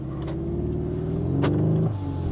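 A car pulls away from a two-pedal launch on a race track, its engine droning low and steady and building slightly before easing off, heard from inside the cabin with a couple of faint clicks.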